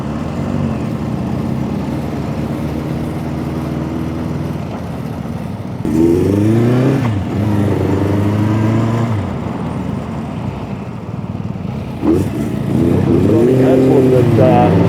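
A 1976 Honda CB400F four-cylinder motorcycle engine revs up in bursts, rising and falling in pitch with a smooth multi-cylinder wail, loud and close, over a steady idle between the throttle blips.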